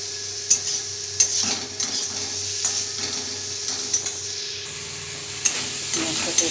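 Onion and spices fry in a pan for an omelette curry, a soft steady sizzle punctuated by regular scraping stirs and occasional clicks of a spoon against the metal.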